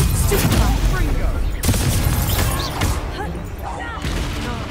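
Wizard spell-casting combat in a Hogwarts video game: dense, continuous blasts and booming magical impacts crash throughout, loud and layered, with shouted voices mixed in.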